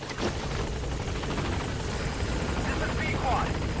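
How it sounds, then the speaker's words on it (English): Support helicopter arriving at a landing zone in Metal Gear Solid V, a steady loud rotor chop and engine whine throughout, with a radio voice talking over it. "support helicopter has arrived"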